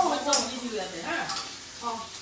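Fish sizzles as it fries in a pan at home, a steady crackling hiss with stirring and scraping sounds and a few louder pops, up close.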